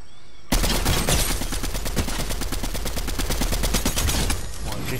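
Rapid bursts of automatic gunfire in a shooter video game erupt loudly after a brief quiet start, a near, continuous rattling stream of shots with a short pause near the end.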